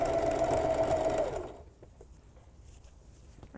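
A sewing machine stitches an upcycled flutter sleeve tee in a loud close buzzing run that stops abruptly after about a second and a half, leaving quiet handling noises.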